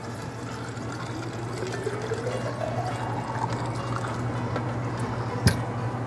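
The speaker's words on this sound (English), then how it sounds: "Fill it up with water." Water poured into a glass to fill a refreshing mint-and-orange summer drink, a steady continuous pour with a rising pitch as the glass fills, ending in a brief clink near the end.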